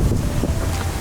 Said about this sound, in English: It was insanely windy this day